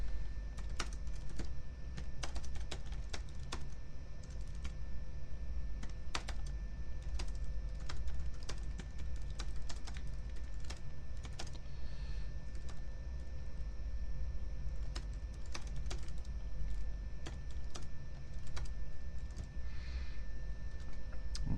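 Fingers type steadily on a computer keyboard for over twenty seconds, a close, dense stream of light key clicks with occasional heavier taps, no voices.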